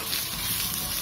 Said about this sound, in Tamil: இப்போ இந்த மாங்காவை சேர்த்து கொஞ்ச நேரம் வதக்கிடலாம்